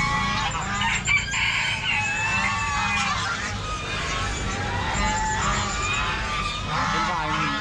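Chickens and roosters at a wild animal market cluck, squawk and crow over a steady crowded background of market chatter. The birds sound close and continuous throughout, with people talking nearby.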